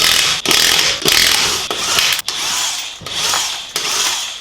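A DeWalt impact wrench hammers at wheel lug nuts on a Honda Civic during a brake pad change, giving loud rattling bursts close up, about six in a row with short gaps between.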